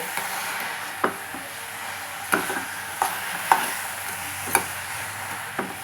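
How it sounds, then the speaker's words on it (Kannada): Grated carrot frying in ghee for carrot halwa is stirred with a spoon: a soft, steady sizzle under a handful of sharper scrapes and knocks that come every second or so, with no talking. "ಈ ತುಪ್ಪದಲ್ಲಿ ಹಾಕಿರೋ ಕ್ಯಾರೆಟ್ನ ನಾನು ತುಪ್ಪದಲ್ಲೇ ಸ್ವಲ್ಪ ಹುರ್ಕೋತಾ ಇದ್ದೀನಿ"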